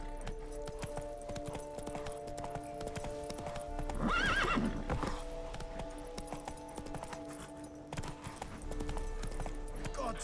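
Horse hooves clip-clopping at a gallop while ridden in The Witcher 3 video game, with a whinny around the middle, loud and close over constant game background music.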